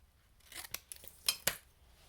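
Scissors make several crisp snips while trimming a strip of stamped card, a few quick cuts fairly close up and quiet, with no talk.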